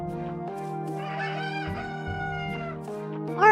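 A chicken crows in the Tales of Rebirth video game, a sustained, bright, tonal call lasting a few seconds over a steady, loud game background.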